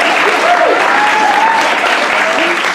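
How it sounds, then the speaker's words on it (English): Dense, steady applause from a comedy audience fills the whole stretch at high volume, with faint voices and a brief whoop riding over the clapping. "you can applaud"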